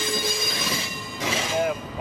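An FEC-hauled Ringling circus train rolls by on rails toward Miami, its elephant cars riding on six-axle trucks, giving a loud, close rumble with brief metallic wheel squeals near the end.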